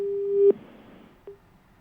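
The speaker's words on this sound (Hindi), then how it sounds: "चलिए अब्बास जी का फोन कट गया" A telephone busy tone after a call drops: one long steady beep that cuts off, followed by the start of a second short beep, clear and alone.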